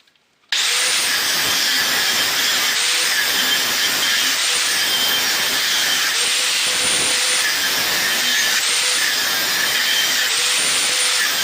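An abrasive cut-off disc grinds steadily through a workpiece, a loud continuous high-pitched whine that holds for the whole stretch after a sudden start.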